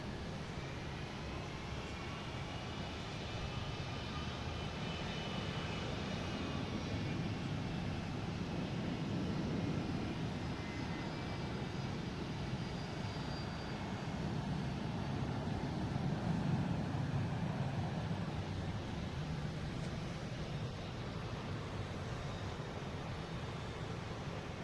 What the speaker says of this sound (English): Speaking of Air Canada, heading to Toronto, an A321